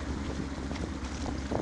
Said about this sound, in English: Engine started on the first crank.